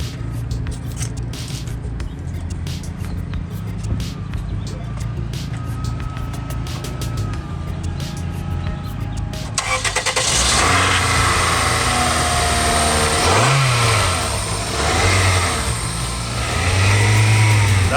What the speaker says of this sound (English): And now it's time to just turn on the car.